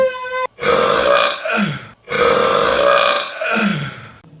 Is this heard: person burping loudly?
yes